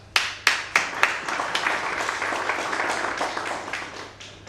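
A few sharp individual claps at a seminar start things off, then quickly swell into a brief round of moderate applause from a modest audience.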